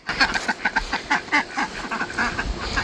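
Ducks and geese on a homestead quack and honk in a busy, repeated chorus, stirred up by a vehicle making a U-turn nearby; the calls come close and fairly loud in quick bursts.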